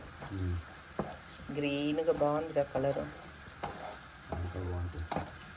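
Mint paste fries and is stirred in oil for pudina rice, a soft sizzle with scraping spatula strokes running beneath close, steady conversation.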